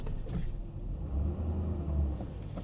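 A 1997 Mercedes E420 engine revs and strains in low, steady rumbling bursts while stuck in mud, wheels churning without much progress, fairly close.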